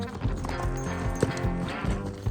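A young, reactive horse fresh from a long winter break is worked outdoors, with hooves clip-clopping in an uneven rhythm over a low background rumble, fairly close.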